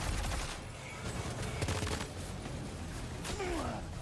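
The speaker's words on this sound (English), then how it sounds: "Where am I getting shot from?" Rapid gunfire from a rifle in the video game Death Stranding 2, dense, overlapping shots and bursts throughout, with game ambience and a brief whistling sweep near the end.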